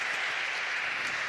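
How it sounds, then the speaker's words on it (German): Studio audience clapping at a talk show with journalists, a steady dense patter of many hands, close and continuous, with no voices over it. "Das kann nur ein ironisches Klatschen sein"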